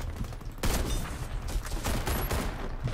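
Rapid gunfire from a Remington MSR sniper rifle and other weapons in the video game Warface, a dense burst of shots and fusillade starting abruptly after a brief lull and continuing loudly throughout.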